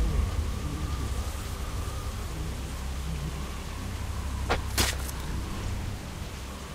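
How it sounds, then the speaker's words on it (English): Steady rain with a low rumble of thunder, heard in The Walking Dead: Season 1 video game, Episode 2. A continuous wash of rainfall runs throughout, with a couple of brief sharper cracks near the end. "I'm honestly loving the sound of this rain and thunder right now."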